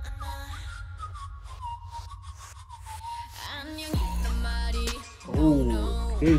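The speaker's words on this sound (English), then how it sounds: "Okay, the whistle as the beat." A melodic whistle carries a tune over a thumping beat in a K-pop song, then heavy bass drops in with synth stabs as the music builds.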